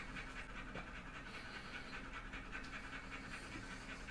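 A black Labrador dog pants rapidly and steadily nearby after chasing a ball, a soft rhythmic huffing that continues throughout with no talking.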